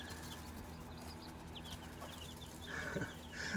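Chickens cluck faintly in an indoor coop with a running heater, soft scattered clucks and peeps over a steady hum, with a slightly louder call near the end.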